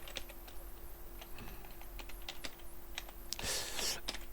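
Keys clatter on a computer keyboard while Korean text is entered into PowerPoint 2016, a steady run of close, light clicks with a denser burst of keystrokes near the end.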